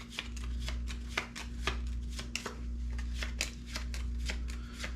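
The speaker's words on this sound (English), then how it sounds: "Shuffle this up again." A deck of cards for a tabletop air-combat game is riffled repeatedly, sharp rapid bursts recurring roughly every half second over a steady low hum, close and fairly quiet.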